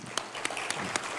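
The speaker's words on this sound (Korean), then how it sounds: "우리 감사의 박수 한번 좀 올리도록 하겠습니다." A church congregation gives a short round of thanks applause for the choir. It sounds thin and fairly quiet, with a handful of distinct claps standing out over a soft background.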